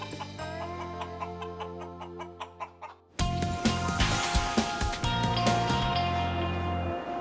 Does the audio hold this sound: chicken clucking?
yes